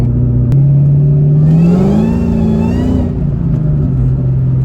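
A 2003 Ford Mustang Cobra engine is fed throttle gently, its loud, close, low note climbing smoothly in pitch with a rising whine, then easing back to a steady drone.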